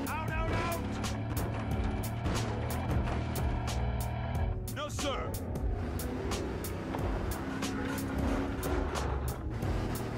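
A car driven in the video game Battlefield Hardline roars with a loud, steady engine drone, layered with sharp rapid clicks and bursts of game noise throughout.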